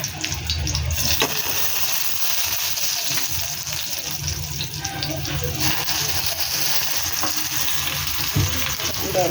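Eggplant frying in a pan for a breakfast spread, a steady hissing sizzle throughout with occasional stirring scrapes and bubbling, close and continuous.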